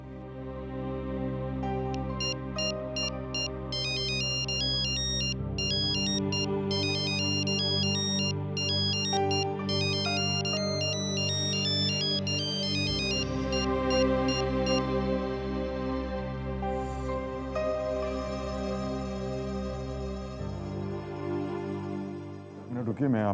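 A telephone ringtone plays a bright, repeating electronic melody for over twenty seconds, loud and continuous over a bed of dramatic background music.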